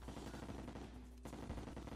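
Rapid, high-rate weapon fire from the Terraria video game, a dense continuous rattle of shots in a loud, steady stream with no talk.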